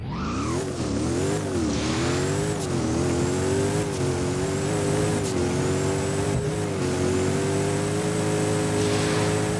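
The Vel 16 car in the video game Driving Empire accelerates with a steady, loud engine roar that climbs repeatedly in pitch through gear shifts, continuous and close throughout.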